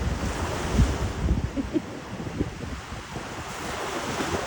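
Sea waves wash and roll continuously at Lebedivka, mixed with blustery wind buffeting the microphone; no one speaks.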